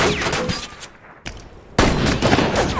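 Loud bursts of rapid gunfire in a film crackle close by, pause briefly, then resume in a heavy volley.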